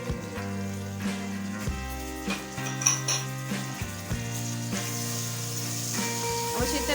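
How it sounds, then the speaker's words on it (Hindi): Sliced tomato frying in a pan with ginger and garlic, with a soft sizzle under repeated clinks and scrapes of a utensil against the pan and a steady background hum, fairly quiet. "अब इसी तरह इसको फ्राई करेंगे।"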